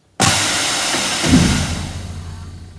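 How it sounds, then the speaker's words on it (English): An air-powered truck tailgate bursts open at the flick of a switch with a sudden loud hiss of air that surges, then tapers off over a couple of seconds. "and it opens that tailgate."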